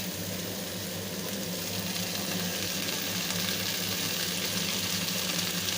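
Onion, black cumin and chopped tomato fry in oil left from frying small fish, a dense, steady hiss and sizzle close by, continuous throughout with no talk.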